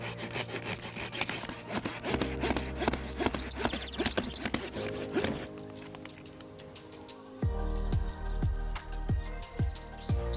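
A hand saw cuts through a small tree's wood during bonsai pruning, with rapid, close rasping strokes and then a slower, heavier stroke rhythm after a brief pause; birds chirp faintly in the background.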